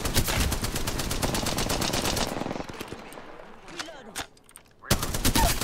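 Rapid automatic gunfire in the battle royale video game Apex Legends, dense repeated shots that thin into scattered single cracks before another loud burst, with game sounds and brief voices mixed in.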